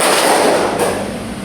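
A class of students claps hands together in a dense, loud burst of overlapping claps that fades a little toward the end.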